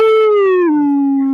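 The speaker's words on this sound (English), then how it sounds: "The dogs are nuts." Dogs howl in a single long, loud, close howl that slides gradually downward in pitch, heard alone without talk.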